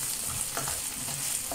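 Minced meat with a spoonful of tomato paste sautés in a pan, giving off a steady, close sizzling hiss with faint stirring scrapes underneath.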